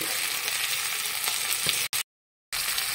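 Tomatoes and fresh coriander leaves sizzle steadily in a hot pan of spice paste, a close, continuous crackling hiss that cuts out abruptly near the end before resuming.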